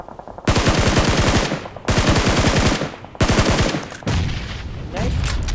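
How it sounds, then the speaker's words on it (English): PUBG gunfire in rapid automatic bursts, four long loud volleys of fast repeated shots separated by brief gaps, very close and dominating. "are you getting shot from up?"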